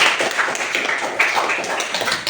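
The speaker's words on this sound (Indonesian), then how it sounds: "Tepuk tangan dulu untuk Abdal." A classroom of students applauds a classmate, with dense, steady clapping from many hands close by that continues without a break.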